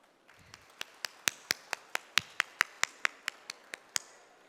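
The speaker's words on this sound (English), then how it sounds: "I ask all the graduates to stand up and join me in giving all the" At a 2022 graduation ceremony, graduates clap for their teachers: about fifteen crisp, evenly spaced claps ring out close by in a steady rhythm, with no talking.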